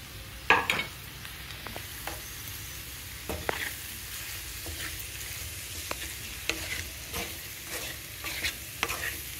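Boiled potato chunks are stirred into a frying potato curry in a pan, with a quiet, steady sizzle under repeated spoon scrapes and knocks against the vessel, one louder clatter near the start, and no speech.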